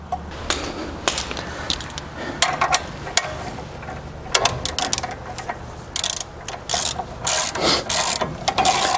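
Repeated ratcheting clicks and metallic turning as a coil spring compressor is tightened on a 1963-87 Chevy or GMC front suspension, close and uneven, with sharper snaps and pops near the end.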